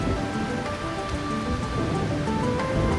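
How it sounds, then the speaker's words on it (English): Steady rain falls on surfaces in Trails Beyond the Horizon, a constant close hiss with scattered drops under a faint musical drone, no talking. "Yeah! Rain!"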